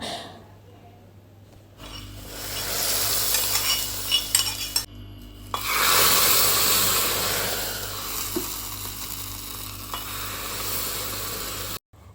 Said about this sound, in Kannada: ಒಗ್ಗರಣೆ ಹಾಕೊತಾ ಇದ್ದೀನಿ ಎಣ್ಣೆ ಹಾಕ್ಕೊಂಡು ಎಣ್ಣೆ ಕಾದ್ಮೇಲೆ ಸಾಸಿವೆ ಜೀರಿಗೆ ಸ್ವಲ್ಪ ಈರುಳ್ಳಿ ಮತ್ತು ಜಜ್ಜಿರುವಂತಹ ಬೆಳ್ಳುಳ್ಳಿ ಒಣಮೆಣಸಿನ್ಕಾಯಿ